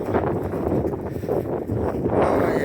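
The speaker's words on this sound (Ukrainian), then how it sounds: "Вибачаюсь вітер, як завжди." Steady rumbling buffeting from wind hitting a microphone, loud and continuous with no clear voices.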